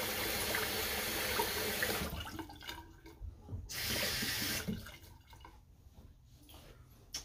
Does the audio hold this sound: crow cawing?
no